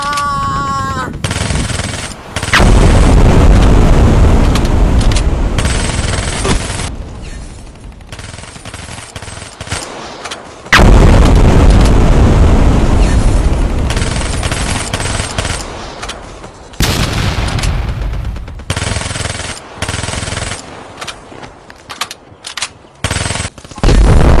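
Loud bursts of rapid machine-gun fire and heavy gunshots from a comedic Sundanese war scene, coming in long rattling volleys separated by short quiet gaps, close and dominant, with no speech over them.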